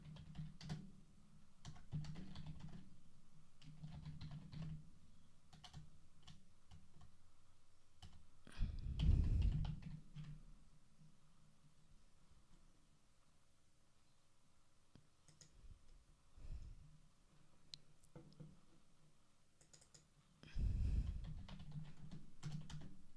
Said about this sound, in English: I'm just using my keyboard arrow keys to move these text boxes around